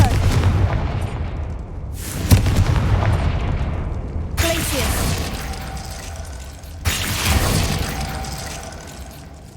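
Confringo fire blast spells go off repeatedly in Hogwarts Legacy, giving several loud, sharp explosive booms a couple of seconds apart, each trailing into rumbling game ambience.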